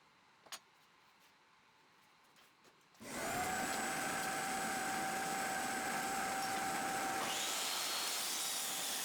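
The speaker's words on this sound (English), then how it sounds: "I love using my dust collector to clean around once I'm done using it on a tool" A woodworking shop dust collector starts up after a near-silent moment and then runs with a loud, steady whine and roar close by, its tone shifting slightly near the end.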